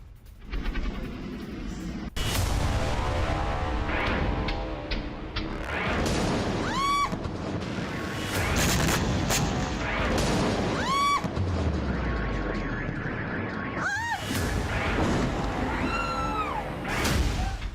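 Loud, chaotic rumbling blasts and booms of bomb and missile strikes on Caracas, Venezuela, with a sharp cracking impact, followed by sustained roaring noise and rising whistling tones, continuous throughout.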